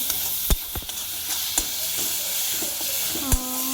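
Chilli powder mixture for a curry leaf and tomato chutney stir-fries over a full flame, with a steady sizzle and hiss and a few sharp spoon knocks against the pan, close and with no talking.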